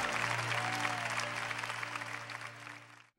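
A church congregation claps together in a sustained burst of applause, dense and steady, with music underneath, fading out after about three seconds.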